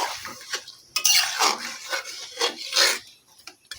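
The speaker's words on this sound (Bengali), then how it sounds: "এটাকে ভালো করে আরও একবার নাড়াচাড়া করে নিচ্ছি।" Chicken and potato curry with a little water, for a Bengali-style red gravy, is stirred in a pan with a spatula. Several distinct scraping and rasping strokes come at an uneven rhythm, close and clear, with no talking.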